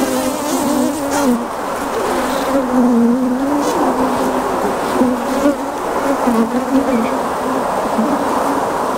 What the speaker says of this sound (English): these were a swarm of bees